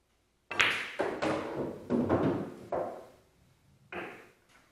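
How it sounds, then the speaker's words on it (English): A cue ball struck with topspin knocks into other balls and a short rail on a pool table, giving a series of close, solid clacks and thuds spaced roughly half a second to a second apart, with quiet between. "if I hit the cue ball with topspin, I can force the cue ball to come up here and hit this short rail"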